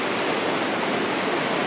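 Creek water flows steadily along a walking track, a continuous broadband rush like a small cascade, close and even throughout with no voices.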